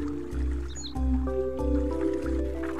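Water drips and sloshes in the Fluidity Wii game, a few soft rhythmic drip-like blips over a tonal musical backing, close and clear with no talk.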